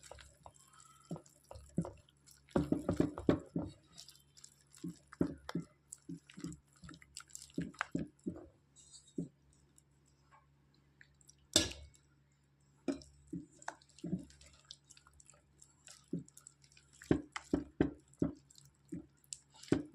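Thick bajji batter for raw banana fritters being mixed with water by hand, giving wet squishing and squelching sounds in irregular bursts, close and fairly quiet.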